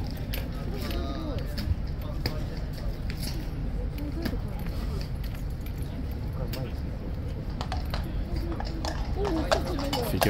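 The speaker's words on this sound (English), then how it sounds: "Here comes a new horse." Hooves of a King's Guard horse clip-clop on hard ground at a walking pace amid a busy outdoor crowd, with people talking throughout and occasional metallic jingling.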